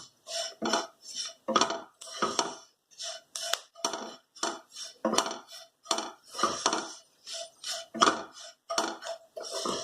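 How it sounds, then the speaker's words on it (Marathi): Bhogi mixed vegetables roasting in a pan while a utensil stirs them: repeated metallic scrapes and clinks in an irregular rhythm, close and fairly clear, with no talk. "छान भाजून घ्या म्हणजे भाजी छान लागते चवीला."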